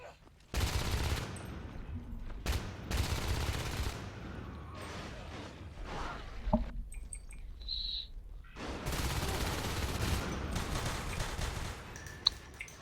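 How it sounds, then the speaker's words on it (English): Pistol shots ring out in the game Natural Selection as rapid bursts of gunfire, several volleys broken by short pauses, mixed with game effects and a commentator talking. "Nice pistol shots"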